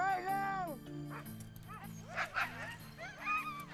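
Sled dogs bark and yelp excitedly in a chorus outdoors, with overlapping high whines and yips rising and falling, and a voice speaking over them.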